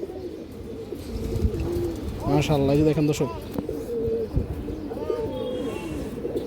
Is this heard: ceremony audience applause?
no